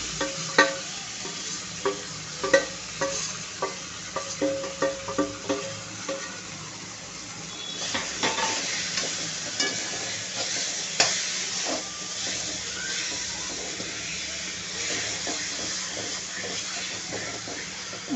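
Eggplant for baingan bharta is stirred into garlic frying in a pan, giving a continuous sizzle and hiss under repeated rhythmic scraping strokes of a spatula, close by and with no voices.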